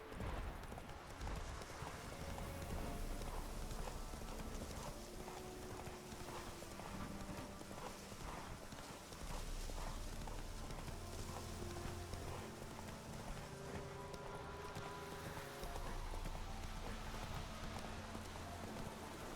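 Roach the horse galloping in The Witcher 3, a steady rapid drumming of hooves running on and on under music and ambient game sound.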